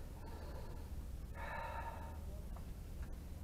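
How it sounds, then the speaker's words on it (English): A person demonstrates breathing in, drawing one short, audible inhale through the nose or mouth, close and fairly soft against a quiet background. "when you breathe in, I want you to be aware, are you breathing in like this?"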